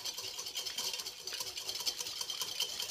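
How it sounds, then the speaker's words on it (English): Lemon, balsamic and Dijon dressing being whisked in a bowl, a quick, faint, continuous scraping and clicking of the whisk against the sides. "Whisk it together"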